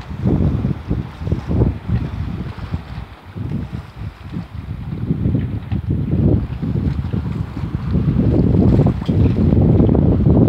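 Wind buffets the microphone aboard a Foxhound 24 sailboat in a light breeze of about 8 knots, a continuous gusty roar rising and falling with water sounds beneath.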